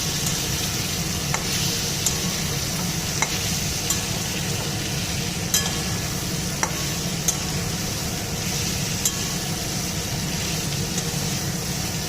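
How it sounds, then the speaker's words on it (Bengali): Potato and pumpkin fry over a low flame, a steady soft sizzle with a spatula scraping and tapping the pan now and then, continuous and close, with no talk. "আমি কিন্তু একদম লো ফ্লেমে এই ভাজাটা করছি"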